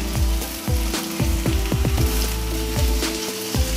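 Tomatoes sautéing with softened onions in a pan, a steady close sizzle broken by repeated scraping stirs of a spoon against the metal.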